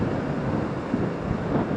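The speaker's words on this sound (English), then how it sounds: "I don't know if the wind's died down. No, hasn't died down." Steady, strong wind rushing and buffeting a microphone by the River Humber during a sea fishing session, a dense low roar with small gusty swells and no talk.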